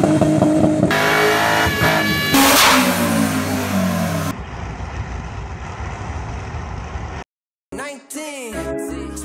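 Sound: Toyota Supra MK4 1996 engine revving

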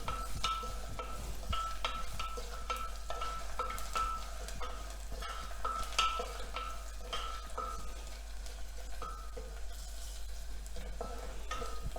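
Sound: garlic roasting in oil in a pan

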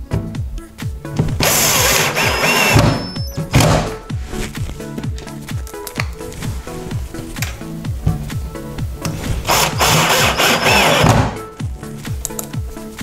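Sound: power screwdriver driving screws into cabinet drawer slide

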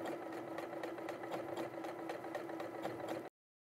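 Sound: domestic sewing machine stitching a blind hem

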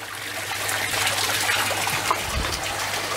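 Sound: water flowing out of an aquaponics grow bed

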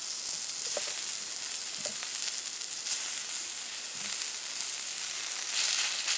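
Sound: pork sizzling on EcoZoom rocket stove

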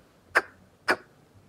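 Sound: beatbox imitation of a snare drum

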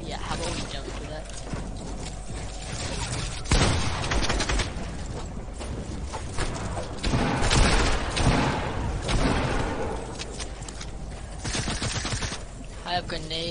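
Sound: grenade explosions in Fortnite video game

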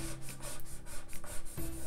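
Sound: burnishing Cricut permanent vinyl onto acrylic painting

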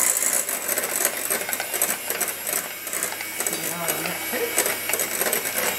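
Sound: whisking eggs with xylitol sugar

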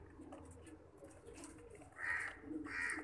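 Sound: pigeons cooing

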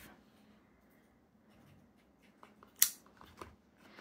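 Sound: cutting open an ink package with a knife

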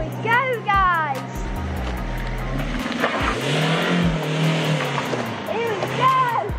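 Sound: remote-controlled car starting and driving off

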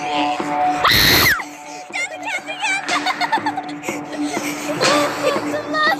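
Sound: Granny video game enemy screaming

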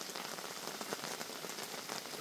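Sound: heavy rain falling

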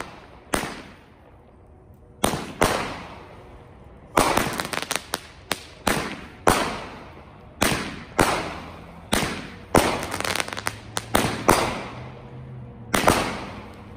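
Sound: consumer firework cake shots exploding

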